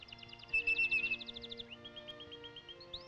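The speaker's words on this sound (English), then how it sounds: "Like that little old bird up there. Listen to him." A small bird sings in a quick series of high, repeated chirps, a fast trill at first and then slower spaced notes. The song is clear and fairly close, heard over a low steady background hum.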